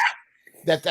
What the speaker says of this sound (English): Oh, that's my dog. That's my wife's horrible Shih Tzu.